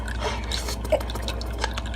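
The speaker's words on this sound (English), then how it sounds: "Oh, water fountain." A toy water fountain drips, a few soft, close drops falling over a faint steady hum, with no one talking.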